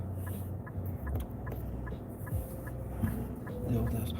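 Chickens in a neighbor's backyard coop give faint, scattered clucks in the distance, heard beneath road and car noise with occasional talk nearby.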